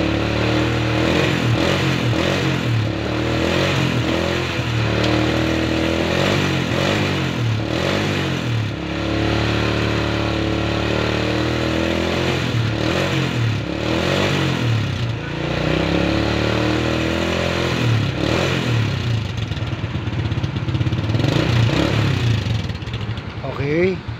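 Honda Wave 125 motorcycle engine revved hard in a workshop, loud and close, with rising and falling engine sweeps repeated throughout, under frequent talk from the people nearby.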